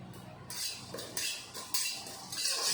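Whole coriander, cumin, bay leaf and dried chilli stir-roasted in a hot wok, with a utensil scraping and clinking against the metal in a few short, close strokes.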